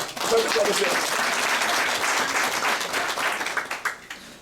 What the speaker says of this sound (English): And clap for her